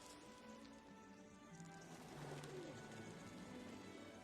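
Pigeons coo softly in a film scene, faint low murmuring calls repeating over a quiet background with light patter.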